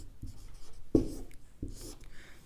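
A pen writes Hindi by hand on paper, giving a few soft scratchy strokes and taps, close and quiet, with no talk.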